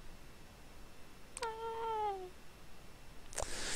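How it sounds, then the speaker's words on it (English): A pet cat gives a single clear, drawn-out meow indoors, close and moderately loud against a quiet room, followed by a brief soft noise burst. "So this guy, Mew the cat."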